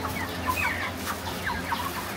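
Broiler chickens nearing three kilograms cluck steadily on a poultry farm, with several short, close calls rising over a constant low murmur of the flock.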